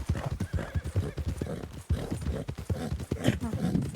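Horse hooves clip-clop in quick, uneven steps in a role-play video game, and a horse whinnies, with a voice talking over the sounds.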